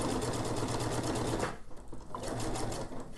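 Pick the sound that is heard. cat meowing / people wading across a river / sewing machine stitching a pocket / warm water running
sewing machine stitching a pocket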